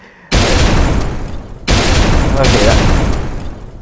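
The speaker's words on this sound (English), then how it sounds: "start this video off in true Michael Bay fashion, with explosions" Two loud, sudden booming blasts, each followed by a rumbling, crackling roar that slowly fades, like close explosions.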